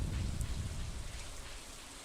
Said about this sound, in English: In the middle of the pouring rain?